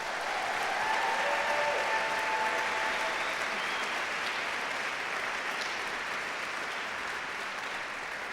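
An audience at a live Failure:Lab storytelling event in Grand Rapids applauds performers on stage, giving dense, even clapping that holds steady and strong throughout with a few scattered voices mixed in.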